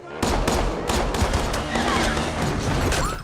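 Gunfire in an action series scene, a rapid fusillade of sharp close shots cracking in quick irregular succession over a busy, echoing background for about three seconds.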